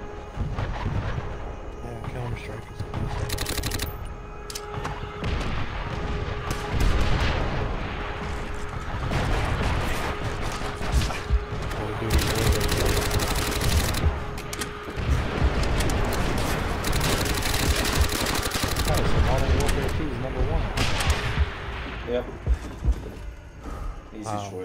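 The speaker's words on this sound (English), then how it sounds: "Our artillery will shake him up!" Artillery fire rumbles through a World at War multiplayer match in a dense, continuous barrage of booms and blasts with mechanical clatter, loud and close throughout, while voices talk over it.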